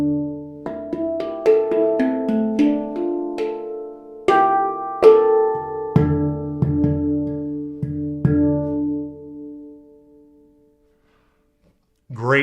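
Nitrided handpan made by Daniels, struck notes ringing out in a melodic pattern with fairly quick decay, close and clear, trailing into silence before a brief final sound.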